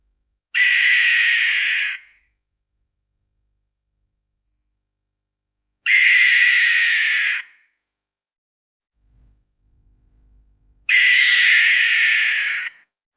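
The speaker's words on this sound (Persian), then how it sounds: "در فرهنگهای مختلف صدای این جغد رو نشانه ای از مرگ میدونن" Three long, hoarse, screeching owl calls ring out, each lasting over a second, separated by silent gaps and a faint low rumble.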